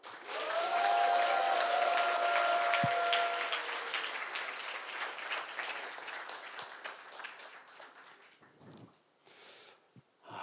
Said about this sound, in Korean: 여러분 힘찬 박수와 함성으로